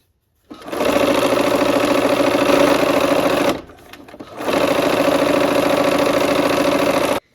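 Sewing machine stitching quilt block seams at a quarter-inch allowance runs in two steady, close bursts, with a short pause between them.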